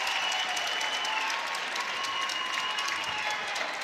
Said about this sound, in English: This Sooner crowd right now loving Isabella Emmerling.